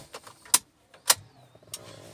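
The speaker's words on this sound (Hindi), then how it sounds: "तो मैं अभी गाड़ी की चाबी डालता हूँ" Car key going into the ignition of a car, a few sharp metallic jangles and clicks close by, then a faint mechanical whir.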